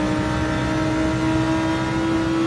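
A car engine in Gran Turismo 7 holds a loud, steady high-revving drone under acceleration, its pitch nearly constant across the short stretch with no talk.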